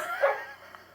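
A single short dog bark rises out of a quiet indoor room, clear and fairly close, with a fainter yip following a moment later.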